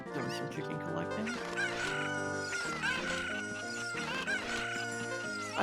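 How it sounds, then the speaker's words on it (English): Video-game chickens clucking over a busy, dense music track from a competitive tournament match, with pitched clucks and a crowing call surfacing repeatedly above the steady score. "Doing some chicken collecting."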